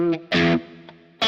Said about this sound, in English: The Strat quack is what I call it.